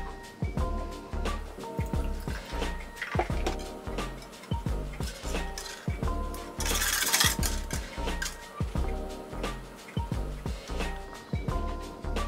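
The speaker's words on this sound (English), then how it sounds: "Now I'm going to add my" Almond milk poured over ice in a glass mason jar, with repeated clinks and knocks of ice against glass, gurgling liquid and small splashes, close and fairly quiet, no talking.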